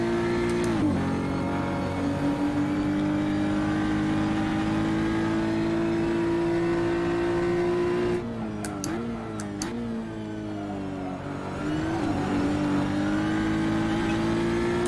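High-powered Group 5 race cars of over 600 horsepower rev and race around a tiny Barbagallo circuit in a sim racing game, a loud sustained engine drone with gear-change dips and shifting pitch, close and steady throughout.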